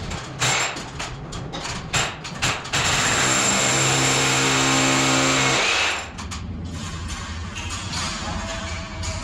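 A machine drills holes through the middle of a thick wall during an Italian property restoration in Salento, its loud steady grinding whine sustained for several seconds before easing into a lower rumble.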